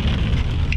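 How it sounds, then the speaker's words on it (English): Heavy rain pours down on a cold day, a dense, loud, steady wash of noise with no pauses. "It's still raining like crazy."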